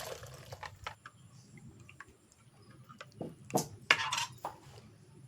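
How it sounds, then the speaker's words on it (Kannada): Sour buttermilk is added and stirred in a metal vessel, with scattered spoon clinks and taps against the sides that grow livelier toward the end, close and fairly quiet with no talking. "ಹುಳಿ ಮಜ್ಜಿಗೆಯನ್ನು ಸೇರಿಸಿ."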